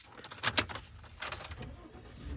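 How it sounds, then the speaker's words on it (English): Keys jangle in two short metallic bursts as a car is started, followed by a low engine rumble rising at the end, close and fairly quiet. "Start the car back up."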